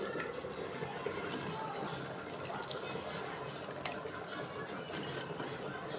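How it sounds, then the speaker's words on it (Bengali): Flat beans being washed in water in a kitchen, a continuous close splashing and trickling rush with faint voices in the background. "এই যে সিমগুলো ধোয়া দিই"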